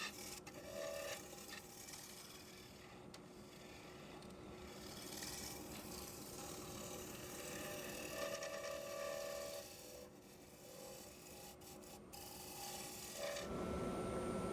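A scraper takes thin shavings off a maple bowl spinning on a lathe, giving a steady, continuous rasping hiss close by with slight swells in intensity and no talking.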